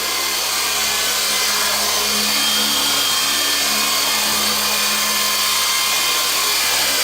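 A small WLtoys V912 RC helicopter hovers nearby, its rotor and motor producing a steady, high-pitched whine that holds constant throughout without pause.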